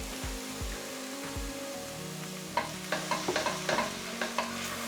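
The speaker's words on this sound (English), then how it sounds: "So we're gonna add a little bit of water, first of all. And this is first to get off all of that stuff on the bottom." Water hits a hot pan and is stirred while deglazing browned bits for mushroom soup. A faint low sizzle runs under sharp scraping clicks of a utensil against the pan, growing busier toward the end.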